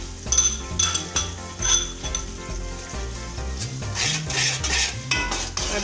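A utensil clinks and scrapes against a pan as green chili paste and garlic-ginger paste are stirred and fried, with a soft sizzle underneath and no talking.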